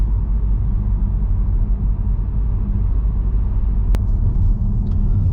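A 2022 VW Tiguan R SUV with 235 kW and 400 Nm drives along, its engine and road noise forming a steady low rumble throughout, with a brief sharp click near the end.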